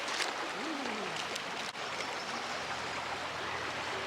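River water rushes and flows in a steady, close broadband wash that holds constant for the whole stretch, with no voices over it.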